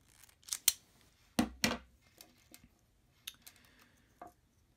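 Scissors cut heat shrink tubing in half with a few sharp, close snips, the loudest pair coming in quick succession. Faint handling clicks are scattered around them.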